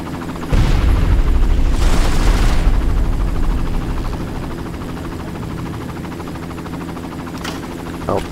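In the video game Far Cry, a helicopter roars loudly and continuously as bursts of gunfire and booms break out, the din easing slightly toward the end.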